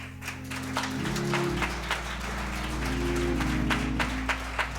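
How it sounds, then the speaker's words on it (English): Applause at an evening lecture-series event greets the keynote speaker, a steady patter of many hands at moderate volume over a low hum, without talk. "A round of applause goes right there."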